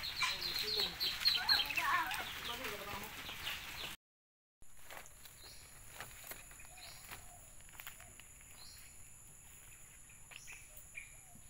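Ducks cluck and call close by amid farmyard noise, followed after a short gap by quieter, sparse calls over a faint steady hum.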